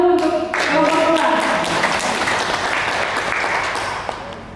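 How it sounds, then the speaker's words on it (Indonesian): An audience applauds a ball group at a library training closing ceremony in West Papua, loud sustained clapping from many hands that starts abruptly and fades slowly, with a few voices mixed in. "Berikan aplaus dulu untuk kelompok bola."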